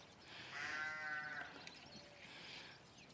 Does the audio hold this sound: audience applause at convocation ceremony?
no